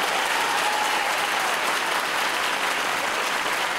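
A large indoor crowd at the 2017 British Ethnic Diversity Sports Awards claps for Sir Lenny Henry, a steady, dense wash of applause that holds evenly from start to finish, with no voices above it.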